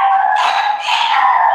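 Several dogs bark and howl together indoors in a house, from a pack of four pets. Their overlapping, continuous yelping is fairly loud and close, with no speech over it.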